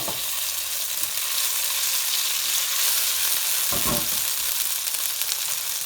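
Garlic and ginger paste fry in a hot pan, giving a loud, steady sizzle that holds throughout, with a brief stirring scrape near the end and no voices.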